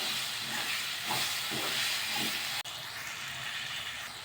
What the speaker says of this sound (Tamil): தக்காளி நல்லா வதங்கி வரணும்.